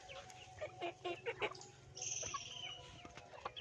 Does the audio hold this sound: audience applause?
no